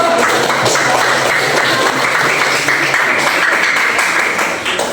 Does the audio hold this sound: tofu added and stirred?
no